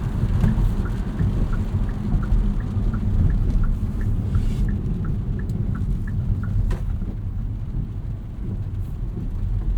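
Rain drums steadily on a 2023 Kia Soul GT-Line while driving, with a dense low rumble and a faint regular ticking running through it; no one speaks.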